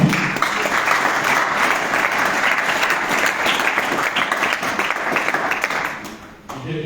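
Sustained applause from a church congregation fills the room for about six seconds, dense and loud with scattered cheers, fading slightly at the end.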